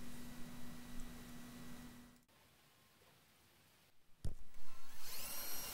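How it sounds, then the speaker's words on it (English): Power drill boring pilot holes through particle board into wall studs while fitting a door reinforcement plate; steady close whirring that stops midway, falls quiet, then a sharp knock and a renewed, pulsing high drilling run. "right here I'm actually going through the particle board, pre-drilling the holes into the studs"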